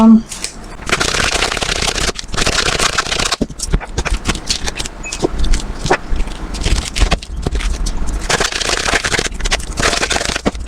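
Oracle cards from a love oracle deck are shuffled continuously by hand, with a dense, close riffling and slapping that runs almost without a break while someone speaks over it.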